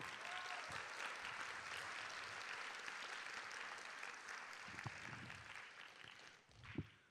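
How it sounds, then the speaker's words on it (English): A graduation crowd at a high school ceremony applauds families in a sustained wash of clapping, steady and full, tapering slightly toward the end. "Give them a round of applause, please."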